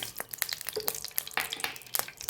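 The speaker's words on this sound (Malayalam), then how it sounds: "എണ്ണ ചൂടായിട്ടുണ്ട്, കടുക് ഇടുവാണ്." Mustard seeds sputter in hot coconut oil on a tawa, giving a close run of sharp, irregular pops and crackles over a soft sizzle.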